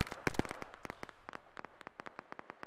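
Gunfire in the shooter game Operation: Harsh Doorstop: a rapid string of sharp cracks, a couple of heavier close shots then quicker, lighter bursts at uneven intervals, fairly quiet with no talk.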